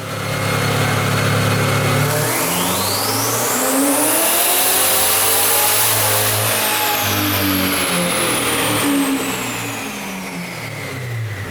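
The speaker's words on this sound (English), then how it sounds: "Paul's 2021 Chevrolet Corvette Z51, equipped with the Peitz Performance Bravo Lite twin turbocharger system" 2021 Chevrolet Corvette Z51 with a Peitz Performance Bravo Lite twin-turbo system revving hard on a dyno, a loud, close engine climbing through the rev range with a rising turbo whistle before easing off near the end.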